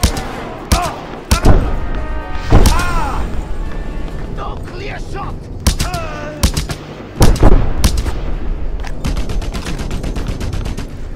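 Repeated gunshots and bursts of automatic fire in the video game Just Cause 2 crack out at several points, loud and close, while voices talk over and between the shots.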